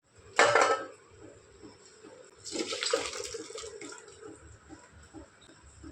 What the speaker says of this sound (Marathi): तर याच्यातलं पाणी काढून घेते.